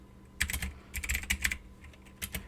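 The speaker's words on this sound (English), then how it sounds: "we're going to go ahead and type // my first code" Keys clatter on a computer keyboard as a short code comment is typed, with quick close-up bursts of keystrokes separated by brief pauses.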